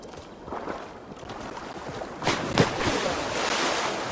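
Water and surf around a boat in Assassin's Creed Valhalla: a steady wash of waves and wind with soft splashes and a brief louder surge midway, no speech.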